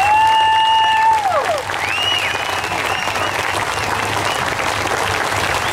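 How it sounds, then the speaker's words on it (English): Audience applause fills the room at a talk-show style event after a tone and whistle-like sweep fade, steady dense clapping continuing for several seconds at moderate loudness. "I want a round of applause for George and Kenny and Randy."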